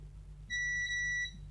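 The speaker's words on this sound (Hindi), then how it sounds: "इसको मीटर को आप बज़र पे रख लेंगे, कंटिन्यूटी जिसे बोलते हैं" A multimeter's continuity buzzer sounds on a shorted capacitor during a DVR repair, giving a single steady high-pitched beep lasting under a second over a low electrical hum.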